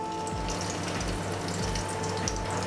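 Garlic sizzles steadily in hot oil in a kadai while a curry leaf chutney tempering is made, a close, continuous frying hiss with soft recurring low thumps and no talking.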